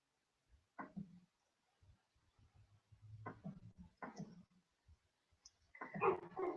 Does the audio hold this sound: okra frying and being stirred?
no